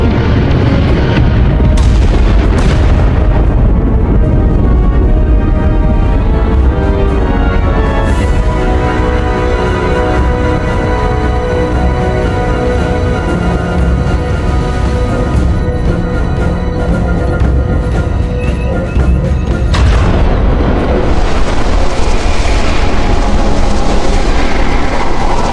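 Starship weapons fire and explosions in Star Trek: Resurgence, loud and dense, with booming blasts and sharp bursts layered over a sustained rumbling score, a couple of hard impacts near the start and another around twenty seconds.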